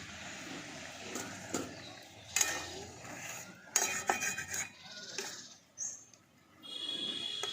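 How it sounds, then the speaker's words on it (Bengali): A metal lid lifted off a pot of simmering jackfruit, with clattering and scraping of cookware, a few sharp metallic clinks and hisses up close, no voices. "খানিকক্ষণ পর ঢাকাটা খুলে নিচ্ছি"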